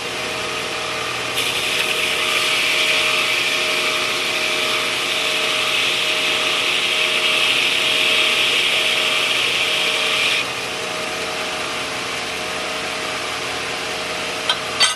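A knife blade is hollow ground on a 10-inch wheel driven by a 1/2 hp motor, making a loud, steady whirring grind that runs for several seconds, then drops back to the motor's hum, with a couple of clicks at the end.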